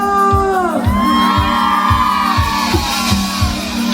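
A crowd at a patron saint festival in Pascaña shouts and whoops loudly, with rising and falling yells over a thumping rhythmic beat.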